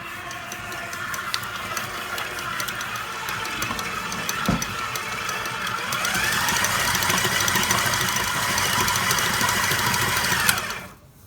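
A stand mixer with a paddle attachment creams butter, white sugar and brown sugar, giving a steady whirring motor drone with a faint rhythmic knock that grows slightly louder toward the end before cutting off.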